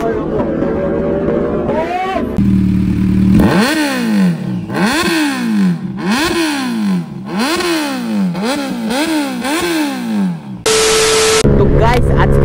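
A Kawasaki Z900 motorcycle revs hard in repeated rising-and-falling bursts during a wheelie, loud and close, with people shouting and talking over it.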